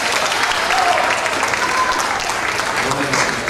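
Congregation applause during a church service, a dense, steady wash of clapping from a large group, with some voices mixed underneath.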